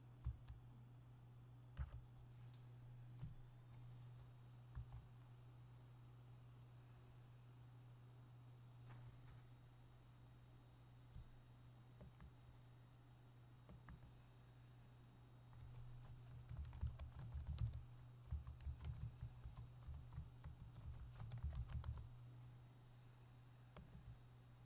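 Typing on a computer keyboard while entering a funnel URL in an ad manager, heard as quiet scattered key clicks over a low steady hum, growing busier and louder toward the end with no speech.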